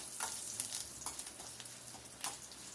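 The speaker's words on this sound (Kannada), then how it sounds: "ಉದ್ದಿನ ಬೇಳೆ ಹಾಕ್ಕೊಂಡು ಫ್ರೈ ಮಾಡ್ಕೊಳ್ಳೋಣ." Urad dal, curry leaves and dried red chillies frying in oil for curd rice, a continuous soft sizzle with crackling pops and brief louder spits, faint and close, no talking.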